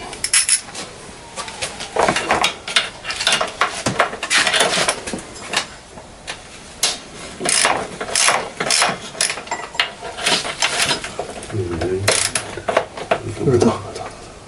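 Ratchet wrench clicking as bolts and a nut on the steering column of a child's quad are worked, repeated bursts of ratcheting with metal clanks, close up, with people talking intermittently.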